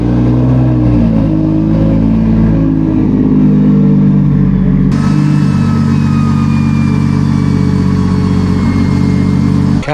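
A Nissan R31 Skyline with an RB30DET engine runs on a hub dyno, droning loud and steady at high revs throughout, with a whining tone rising near the middle, heard alone.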